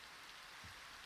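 Rain falling in the Minecraft world, a soft, steady patter and hiss that stays faint and even throughout, with no voices over it.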